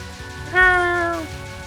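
A single cartoonish cat meow rings out in the Touhou 11 shoot-'em-up game, a clear, close, rising-and-falling call lasting under a second over quiet background.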